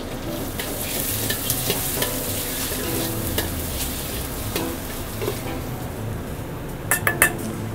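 Boiled pork intestines fry in a pan with a little doubanjiang and garlic, a steady sizzle under repeated stirring scrapes and metal clinks, with a few sharp utensil knocks near the end.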